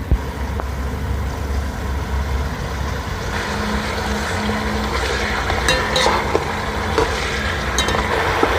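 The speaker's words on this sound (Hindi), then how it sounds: "अब इसमें हम आधा कप ऑयल डाल के इसकी भुनाई करेंगे।" Tender mutton frying in half a cup of oil for a Shinwari karahi, a steady loud sizzle and hiss that continues throughout, with occasional small clatters.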